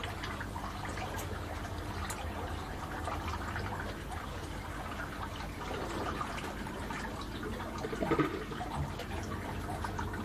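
An aquaponics bell siphon fed by a high-capacity 40-watt pump drains water with a steady rushing flow, then gurgles and sucks air briefly near the end. The sound is close and continuous, with no talking.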